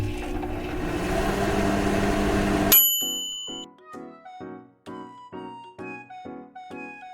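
A microwave oven cooks aglio olio e peperoncino pasta. Its running hum is steady and fairly loud, then stops abruptly with a bright chime, followed by a series of evenly spaced, quieter beeps.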